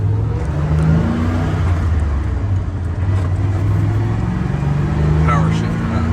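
A 1992 GMC Sierra C1500 pickup with a 5.0 V8 and five-speed manual pulls away and accelerates, a loud, steady engine drone with road and cabin noise heard from inside the truck.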